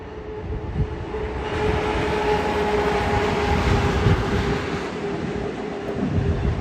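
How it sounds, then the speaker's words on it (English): Local commuter rail train passing nearby outdoors, a sustained rumbling roll with a faint high squeal, building and holding steady throughout with some wind buffeting. "This is a local commuter rail."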